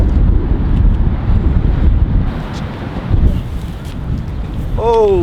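Loud, steady wind buffeting the microphone, a constant low rumble with gusts that swell and ease throughout.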